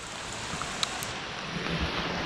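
Steady rain falls outdoors in Arkansas, a continuous broadband hiss with scattered drip and splash ticks close by, moderately loud and unbroken, with no voices.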